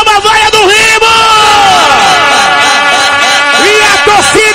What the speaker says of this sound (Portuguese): Quem torce o Pai Sandu, dá uma vaia no Remo.